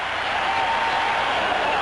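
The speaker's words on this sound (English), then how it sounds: "The crowd alive here as the quarter comes to a close" A 1980 Green Bay football stadium crowd roars steadily near the close of a quarter, a loud, dense and continuous wash of cheering from a large crowd with no breaks.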